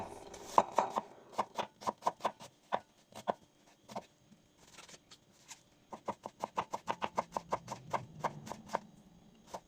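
An onion being chopped finely with a knife gives crisp, rapid, close strikes on a board, arriving in two busy bursts separated by a brief pause.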